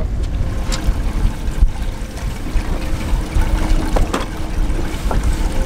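A boat motor idles at its slowest speed, a loud, steady low rumble with light water splashing and wind noise and no voices.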